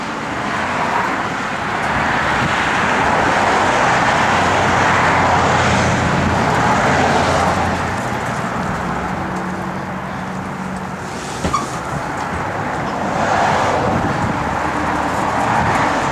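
A 1956 Chevrolet 210 with Powerglide automatic transmission drives along the road, its engine and tire roar steady and close with swells as it accelerates, and a brief click partway through.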